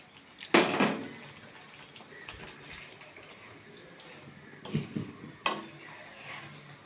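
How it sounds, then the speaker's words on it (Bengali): Hot water splashes into a pan of egg curry gravy in a couple of short close pours, with clinks and quiet kitchen noise between them. "আমি এর মধ্যে অল্প সামান্য গরম জল দিয়ে দেব।"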